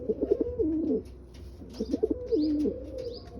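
White pigeons kept in pairs coo close by in two rhythmic, throaty bursts with a short pause between them, with a few faint chirps in the background and no talking.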